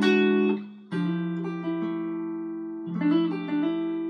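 JV Custom Origin T Telecaster-style electric guitar with a 3-band 11-gauge string set, played live into a microphone: clean ringing chords and single notes, sustained and fading, each strum close and clear with no talking.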